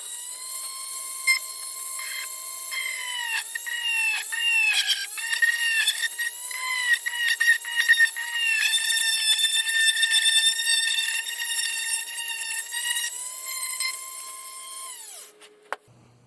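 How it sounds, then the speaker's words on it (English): A small drill bores a hole into a USS Enterprise-D model for fiber optics and LEDs, giving a steady, close, high whine that wavers in pitch for about fifteen seconds before cutting off. "I have to drill out a hole here for the fiber optic and LEDs."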